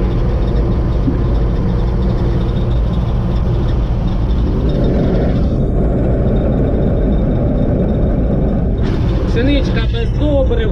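An old SK-5 Niva combine harvester works through a wheat harvest, its engine a loud, dense, continuous drone that stays close and steady for the whole stretch.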